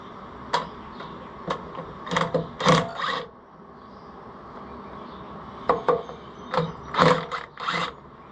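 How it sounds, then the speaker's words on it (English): Ratchet wrench loosening bolts on an Oliver 550 tractor, heard as close bursts of rapid clicking ratchet strokes separated by short pauses, over a quiet background. "see if we can't get these two bolts loose"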